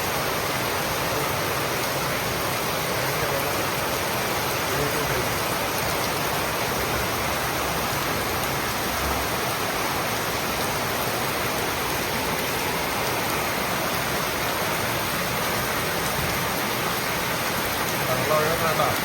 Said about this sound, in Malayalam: ഇന്ന് ഭയങ്കരമായിട്ട് മഴ പെയ്യാണ്